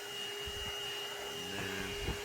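A ThisWorx portable corded handheld car vacuum cleaner, plugged into 12-volt power, runs with a steady whining motor hum, fairly close and moderately loud, with small bumps of handling noise near the end.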